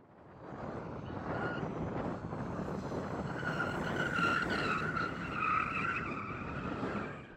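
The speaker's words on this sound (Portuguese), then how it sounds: "bora ver do que essa Mercedes AMG é capaz. Vai lá, faz uns drifts." Mercedes-AMG CLA 45 S drifting, its tyres squealing and skidding continuously for several seconds over a steady engine roar, fairly close and loud.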